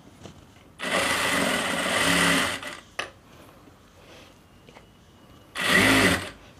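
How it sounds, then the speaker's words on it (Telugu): Sewing machine stitching a blouse side joint in two short bursts of fast whirring, separated by a quiet pause with small clicks and handling sounds. "ఇక్కడ నుంచి హ్యాండ్ మార్కింగ్ సమానంగా పట్టుకుని ఇక్కడ స్టిచ్చింగ్ స్టార్ట్ చేయండి."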